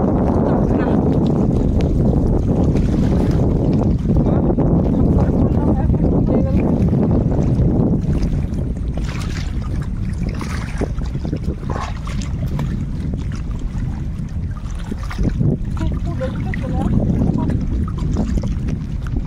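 A boat moves along a river in the Sundarbans with a steady, close rumble and water wash running throughout, buffeted by wind noise on the microphone, while voices talk over it at times.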